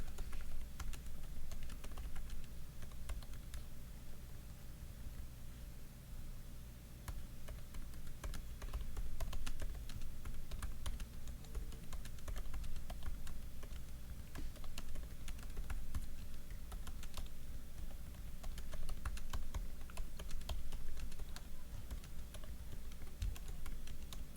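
Continuous typing on a 2020 MacBook Air laptop keyboard, soft quick clicks in an uneven rhythm, close and alone for the whole stretch.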